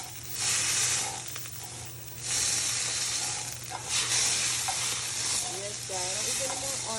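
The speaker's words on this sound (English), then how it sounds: "I'm going to give it a quick stir in the pot." Butter sizzles and hisses in a preheated pot while it is stirred with scraping sounds, a steady close frying crackle that swells and eases, with a voice speaking faintly at times.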